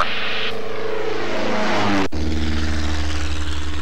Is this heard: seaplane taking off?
yes